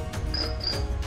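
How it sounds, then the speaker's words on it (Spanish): Crickets chirping at night, a couple of bright, close, rhythmic trills standing out over a low background hum. "Se escuchan los grillos."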